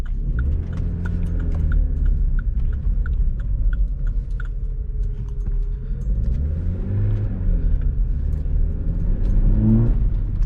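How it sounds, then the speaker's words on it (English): A Vauxhall Corsa fitted with a performance air filter pulls hard in first gear, its loud engine droning and rising in pitch from inside the cabin, while a steady ticking clicks along underneath. "This car is so loud. Oh my days, when you're in first gear and you put your foot down"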